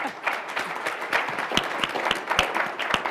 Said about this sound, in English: I'd like to just call for one big round of applause for our panel